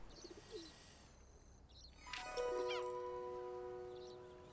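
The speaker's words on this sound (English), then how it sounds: "Different types of seagull." Several seagull calls in Alba: A Wildlife Adventure, sharp chirps and cries over a quiet island ambience, with a louder cluster of calls in the second half.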